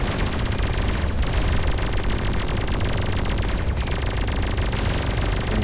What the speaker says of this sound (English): And we'll spin up the blast cannon again.